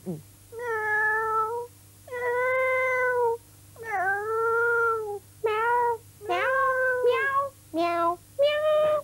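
A person imitates a cat on an Icelandic children's TV show, giving about eight close, loud meows in a row that grow shorter and quicker toward the end.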